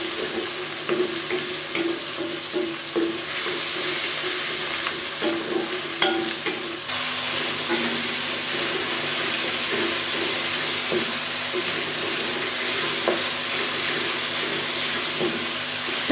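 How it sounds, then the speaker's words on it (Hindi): Chopped tomatoes and onions fry in a pan for tinda bhujia, a steady close sizzle with occasional stirring scrapes running unbroken and fairly loud throughout. "अब मैं थोड़ी देर टमाटर को भी भूनूंगी ताकि टमाटर अच्छे से इसमें मिक्स हो जाए"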